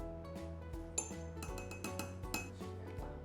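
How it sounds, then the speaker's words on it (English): A spoon clinks against a container while zinc oxide is added to a homemade body butter: light, scattered metallic taps over a quiet hum, close by, with no speech. "now I'm gonna add my 1 teaspoon of zinc oxide"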